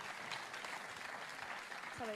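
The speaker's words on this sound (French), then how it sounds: "vous pouvez les applaudir" Fairly faint crowd applause at a sports awards ceremony for combat sports nominees, continuous scattered clapping throughout the short stretch.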